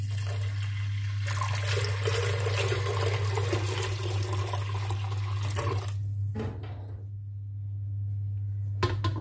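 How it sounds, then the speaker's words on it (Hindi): Water pours steadily into a pressure cooker holding lentils, a continuous rushing stream for about six seconds before cutting off, followed by quiet and a brief final splash. "इसमें डालेंगे पानी"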